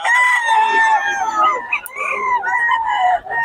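A young rooster (stag) at a market crows once in a loud, close, drawn-out call, with a brief break partway through.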